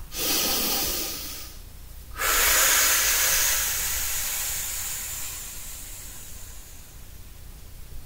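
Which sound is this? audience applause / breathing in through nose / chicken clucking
breathing in through nose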